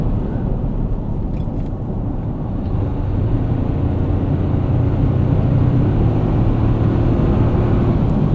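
Steady low engine and road drone inside a 2024 Toyota Tacoma TRD Off Road driving through the desert, a constant loud rumble with wind and tire noise and no talk.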